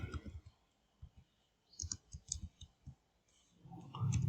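Fingers tap keys on a laptop keyboard in quick light bursts of clicks with short pauses between them, close and fairly quiet, followed by a louder rumble at the end.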